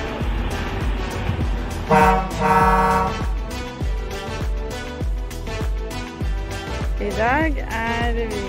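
Truck and car horns toot repeatedly at a roadshow event, loud overlapping blasts mixed with music and a voice talking over them.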